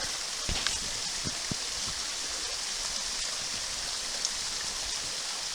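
Steady broadband rush of the Satsop River flowing over rocks, with a few faint knocks and drips near the start.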